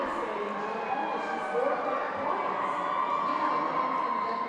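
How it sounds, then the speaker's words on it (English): A crowd at a Canada vs Denmark Roller Derby World Cup match cheers and whoops steadily after a scoring jam, a broad, sustained roar in an indoor arena with a commentator talking over it. "and the crowd liked that."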